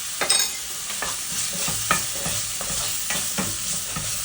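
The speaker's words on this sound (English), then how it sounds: "Give it a good stir" Seasoning cubes, salt, black pepper, dried thyme and curry powder fry for Nigerian fried rice under a steady close sizzle, with a spoon scraping the pot in a loose, repeated stirring rhythm.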